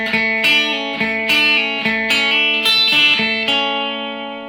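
Guitar playing the verse line of a song slowly, a sequence of about ten distinct picked notes with a bright, slightly distorted tone, each ringing into the next before a final note fades, no talk.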